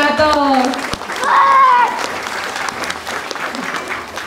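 An audience breaks into applause at an indigenous peoples' day school event, the clapping rising and then thinning out under a voice speaking over it.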